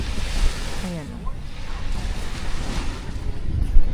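Ocean waves wash onto a beach in La Union, a steady rushing surf mixed with wind buffeting the microphone and a brief voice, with a louder swell near the end.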